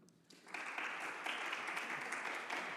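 An audience at a presentation breaks into applause, starting after a brief quiet moment and swelling into steady, even clapping that continues to the end, moderately distant.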